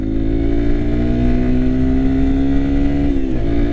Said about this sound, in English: Yeah, it's not a fast accelerating bike by any means.